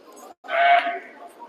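A Dutch Spotted sheep gives one loud, drawn-out bleat at livestock judging at Borderway, Carlisle, with a low murmur of background noise before and after it.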